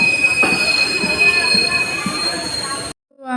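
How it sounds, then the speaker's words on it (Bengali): A train pulls into a station with sharp, sustained high-pitched wheel squeal over rumbling rail noise, loud and close, cutting off abruptly near the end. "রাস্তা থেকে ট্রেন আসবে"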